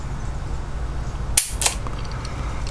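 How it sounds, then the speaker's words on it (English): Taurus 605 revolver fitted with a Wolff trigger spring kit, dry-fired close by. Two quick crisp metallic clicks sit a fraction of a second apart over a faint background hum, with no talking. "See what kind of trigger pull we get."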